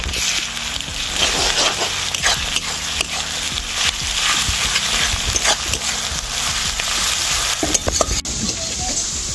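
Ginger and garlic, some as paste, frying with onions for a soybean do pyaza: a loud, continuous crackling sizzle close by, broken by frequent clattering knocks of a spoon stirring against the pan, with no talking.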